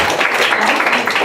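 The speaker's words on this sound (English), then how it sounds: "Let's give a round of applause" Audience at an international school gathering claps in a short, dense burst of applause, loud and close.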